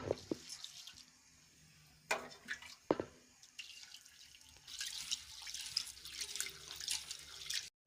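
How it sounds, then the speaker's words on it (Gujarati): Moong dal is rinsed with hot water in a bowl on a village kitchen chulha setup, heard as faint, intermittent trickles and splashes with a few sharp knocks, then a steadier wash of water toward the end. "ગરમ પાણી લઈને દાળ ધોઈ નાખીએ"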